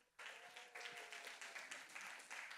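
A congregation at a Sunday university worship service bursts into applause after a brief quiet moment. Many hands clap in a lively, even patter that continues to the end, faint in level overall.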